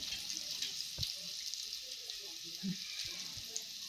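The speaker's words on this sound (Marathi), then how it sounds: "थोडंसं तेल, त्यामध्ये थोडंसं लाल तिखट आणि हळद टाकून ना अंडे थोडेसे परतून घ्यायचे" Eggs fry in hot oil seasoned with red chili powder and turmeric, giving a soft, steady sizzle with a few faint clinks from a spatula, fairly quiet and with no talking.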